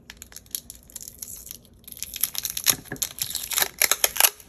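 A loud laminating machine, with paper fed through incorrectly, runs with harsh crackling and crunching, quieter at first and then a dense, uneven grinding clatter in the second half.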